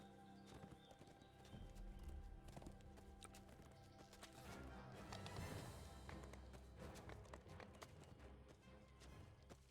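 Horse hooves clip-clop at a quick running pace in Dungeons & Dragons Online, steady and fairly close, with a brief whinny amid game ambience; no talking.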